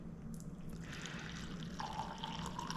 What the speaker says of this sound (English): And let's pour it out.